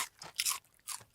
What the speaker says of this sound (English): Talk about the worst possible food to eat on. It's so crunchy.